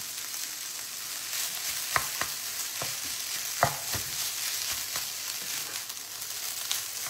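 Beef and rice fry in a pan with a steady close sizzle, broken by several sharp scraping stirs of a utensil against the pan.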